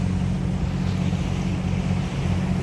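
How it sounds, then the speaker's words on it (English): Rapids pour out of the Canoona River in a dense, steady roar, loud and close, with a low rumble beneath the broadband rush of water and no voices. "these are fantastic rapids coming out of the Canoona River."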